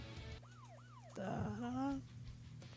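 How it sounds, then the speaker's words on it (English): Police car siren fired up, a loud close wailing whoop that rises and falls twice, then a brief burst of harsher rising tone with a clattering sound beneath, over steady engine hum. "Fire up the siren."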